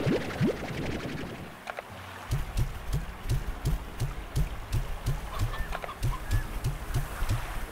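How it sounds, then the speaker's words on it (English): Briar hens in the Slime Rancher farming game cluck and peck in a steady pulsing rhythm, soft repeated low beats with faint chirps over a hum of ambient background. "I've got briar hens."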